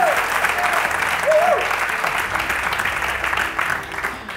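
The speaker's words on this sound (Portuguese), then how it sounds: "Os teus filhos aplaudiram" Studio audience applause on a Portuguese television talk show, a dense continuous clapping that holds steady throughout, with a brief voice or whistle-like sound rising faintly early on.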